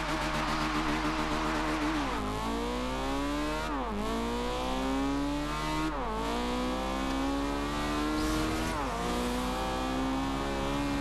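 A 464hp Honda Civic sleeper launches down a straight runway at full throttle, the engine screaming up through the revs in repeated climbs broken by three quick gear changes, loud and close throughout.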